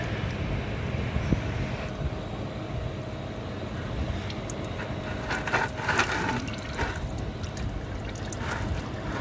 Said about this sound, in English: So what excess oil is still in it, around the top of it, that's what's pouring out.